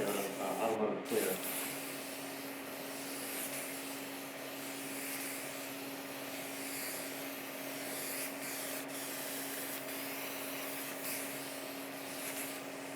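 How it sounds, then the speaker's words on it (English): An aerosol spray can hisses steadily as paint goes onto a quarter-scale figure base, a long even close hiss after a short burst of handling noise at the start. "No reason for you to watch me spray paint for 45 minutes."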